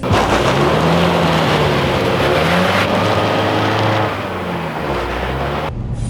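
An all-wheel-drive car accelerates on a snowy road, its engine droning loud and steady from inside the cabin as the pitch rises through the gears, with no talk.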